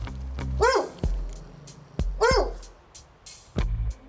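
Big dogs at a house bark and yelp in a few separate outbursts, sharp close barks spaced a second or so apart over low rumbling background noise, with no talk.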